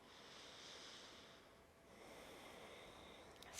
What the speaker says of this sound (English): begin to breathe in and out of your nose